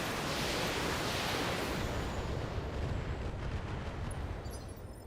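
A dense, loud roar of long-range missile barrage fire in the video game Battletech, a continuous rushing wash of launches and impacts that stays steady throughout and eases slightly toward the end.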